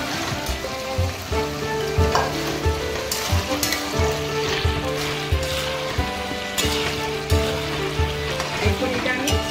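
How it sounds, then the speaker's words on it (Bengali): Fried jackfruit and chicken pieces slide into a simmering gravy, giving a steady close sizzle with soft stirring clinks and occasional louder bursts throughout. "আমি এরপরে ভেজে রাখা এই এঁচড় আর চিকেনের বোনগুলো আস্তে আস্তে দিয়ে দেবো।"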